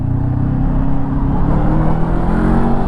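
A 2024 Honda NX500 motorcycle with a 500cc parallel-twin engine runs loud and close while being ridden, its engine drone steady with slight rises in pitch as it pulls.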